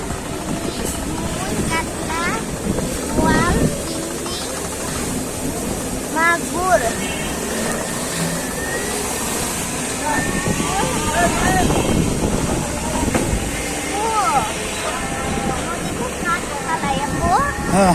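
A boat moves along the Buriganga river toward Sadarghat, its low engine rumble and wind buffeting running steadily beneath nearly continuous chatter from children and adults aboard.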